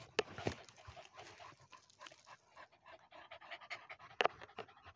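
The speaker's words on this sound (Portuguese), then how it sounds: "Cachorro aqui na expectativa dele sair." A hunting dog pants rapidly and audibly at close range during a midday hunt, with soft rustling and a few sharp knocks in the background.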